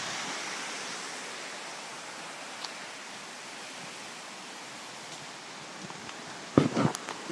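Cold river water flowing at El Yunque gives a soft, steady broadband rush under faint rustles, with a brief louder splash or knock near the end.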